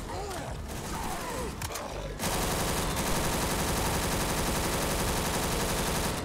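Dense, rapid bursts of automatic gunfire crackle nonstop in Left 4 Dead 2's The Bloody Moors campaign, with lighter shots and clatter at the start before the firing becomes constant and loud.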